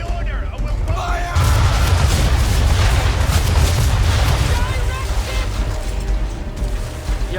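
Ship cannons fire during a naval battle in Assassin's Creed 3, making a loud, continuous rumble of booms that carries on throughout, with game voices heard over the gunfire.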